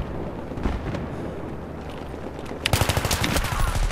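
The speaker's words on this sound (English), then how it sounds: "I started firing before he even hit" Video game gunfire: a low rumbling battle backdrop, then a sudden close burst of rapid automatic shots near the end, loud and rhythmic.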